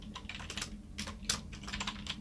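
Typing on a computer keyboard sounds as a quick, uneven run of sharp clicks, close and clear, while a Python program is being written.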